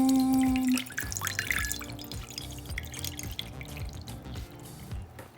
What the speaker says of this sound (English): So I'm going to add some water into my bowl